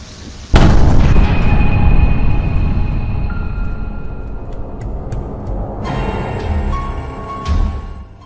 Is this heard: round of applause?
no